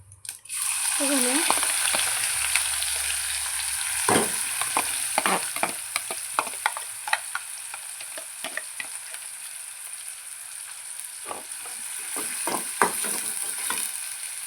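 Finely chopped onion drops into hot oil with mustard seeds and cumin for a sprouted moth bean usal, setting off a loud sizzle that settles into a steady frying hiss, with repeated spoon scrapes and clinks against the pan.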